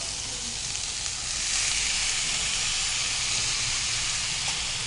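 Prawns frying in a pan with onions, ginger-garlic paste, turmeric, soy, fenugreek and spinach, giving a steady, loud broadband sizzle and hiss that swells slightly after the first second and continues without talk.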